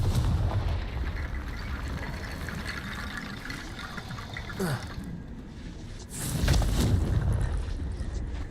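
The Confringo fire-blast spell from Hogwarts Legacy goes off as a rushing, booming burst. It swells out of a steady wash of game ambience and is loud and close, with no talking.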